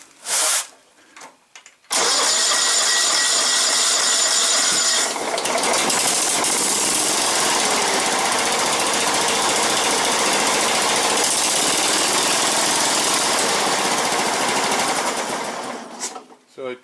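John Deere STX30 lawn tractor engine on a cold day of about 40 degrees, cranking briefly, then catching and running loud and steady close by before cutting off near the end.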